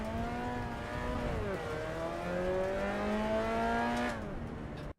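A Mazda MX-5 engine in the racing game Assetto Corsa Evo drones steadily under load. Its pitch dips at a gear change, climbs again through the next gear and then cuts off abruptly. No talk is heard.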